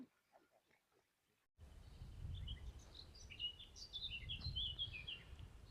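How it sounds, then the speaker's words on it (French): Small birds chirp and twitter in quick, high bursts outdoors at a dried-up waterfall, over a low, steady rumble of wind or ambient noise, after a short, quiet opening. "On entend les petits oiseaux. C'est agréable."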